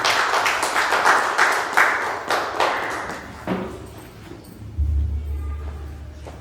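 A congregation at a Pentecostal church Sunday prayer service claps in a dense, loud burst that gradually thins and fades, ending with a low hum.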